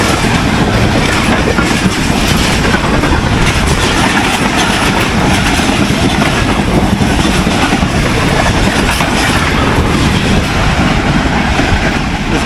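The Shah Latif Express, led by locomotive GU 9046, roars past Dhabeji station at close range, with loud continuous rumbling and clattering wheels on the rails throughout and no voices.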